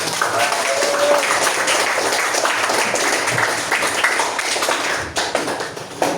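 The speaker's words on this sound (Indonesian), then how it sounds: "Tepuk tangan kawan." A classroom group claps together in a steady burst of applause, with a voice speaking over the clapping early on and the clapping thinning toward the end.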